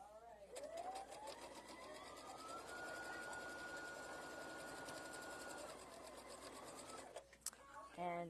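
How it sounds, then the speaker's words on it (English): Sewing machine stitching quilt pieces for a pieced tulip wall hanging, a steady rapid needle hum that runs for several seconds, then stops with a few clicks and handling noises. "I'm going to sew those to the bottom here."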